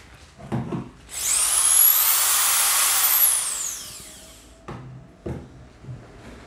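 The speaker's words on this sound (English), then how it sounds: "that's a 500 watt drill that I demonstrated there" A 500-watt electric drill powered by a 3 kW portable battery inverter whirs up, runs steadily at high speed for about three seconds, then winds down, with a few quiet knocks before and after.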